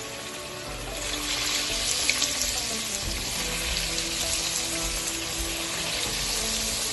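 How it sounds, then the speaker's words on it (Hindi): Veg Russian kababs drop into hot oil and fry with a dense, continuous bubbling sizzle that swells after the first second and stays fairly loud throughout. "अब मैं इसको फ्राई करती हूँ। ये मैंने पहले से ऑयल रख दिया था, ये गरम हो गया है"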